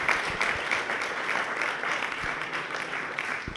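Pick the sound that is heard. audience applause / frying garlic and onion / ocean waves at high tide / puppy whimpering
audience applause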